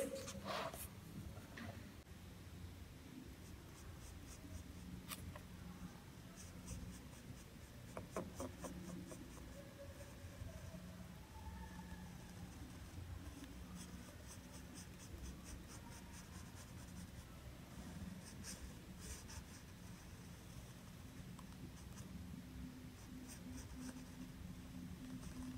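Pencil scratches and rubs on paper as body parts are drawn, faint and close, with soft intermittent strokes continuing throughout.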